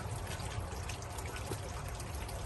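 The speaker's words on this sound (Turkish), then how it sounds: "Evet şu anda su güzel akıyor." Water runs steadily through a micron gold separating machine, a continuous, fairly quiet rushing flow with no pauses.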